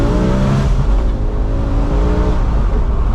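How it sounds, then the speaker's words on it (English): A BMW E60 M5's V10 engine revs while driving, a loud, continuous rising and falling engine note heard from inside the car with no talking. "You just hear that V10 just singing in the background."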